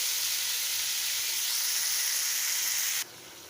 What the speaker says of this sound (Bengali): এখন এই আলুটাকে ভালোভাবে কষিয়ে নেব।